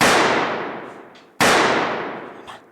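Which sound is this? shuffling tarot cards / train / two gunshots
two gunshots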